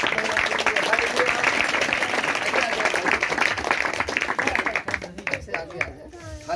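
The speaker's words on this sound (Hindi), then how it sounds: "ताली बजाएंगे प्रभु की महिमा के लिए" A church congregation at Friday prayer in Kaushambi claps in praise, a dense, continuous wash of applause close by that thins toward the end, with a voice speaking over it.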